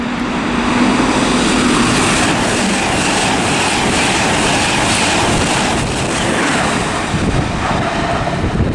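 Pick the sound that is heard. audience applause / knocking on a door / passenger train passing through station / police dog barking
passenger train passing through station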